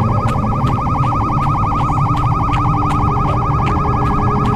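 Siren Head's police-style siren wails in the horror game Siren Head with a rapid warbling tone, loud and continuous over a dense rumbling background, with no voices.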